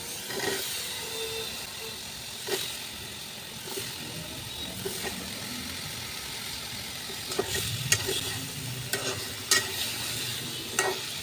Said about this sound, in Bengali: এখন আমি লাউগুলি ছেড়ে দেব।